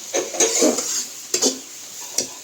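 Garam masala being stirred into a cluster bean dish cooking over a stove, a few separate scraping strokes of a spoon against the pan with brief pauses between them, close and fairly quiet over a soft background hiss.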